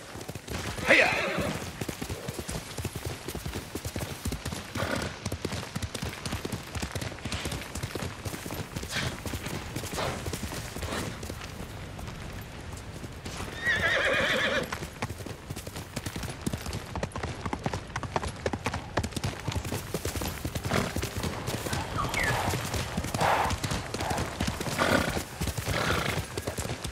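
Steady rhythmic hoofbeats of a galloping horse in the video game Ghost of Tsushima run throughout, with brief whinnies and shouting voices over the top.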